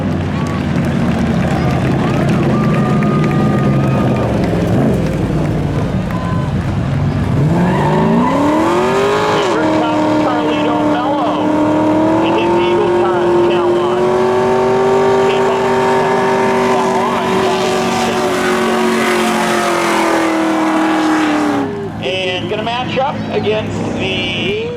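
Race cars run side by side at Seekonk Speedway spectator drags, their engines roaring loud and climbing in pitch as they accelerate, with a tire squeal along the way, while an announcer calls the action over the top.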